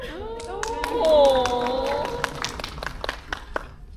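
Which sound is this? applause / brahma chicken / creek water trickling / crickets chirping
applause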